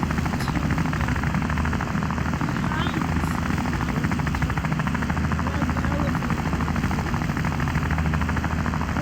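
Police helicopter in the video game Wobbly Life, a loud, steady rotor drone with a rapid chopping pulse and low engine rumble, continuous and close throughout.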